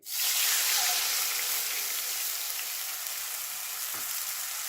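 Chana chaat masala with crushed spices, salt and chili cooks in a pan, making a loud, steady hiss and sizzle that starts suddenly and fades slightly as it continues, with no talking.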